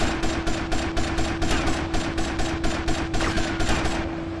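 Rapid automatic gunfire in Grand Theft Auto Vice City, a steady rhythmic burst of about four or five shots per second running continuously over a droning tone, loud and close.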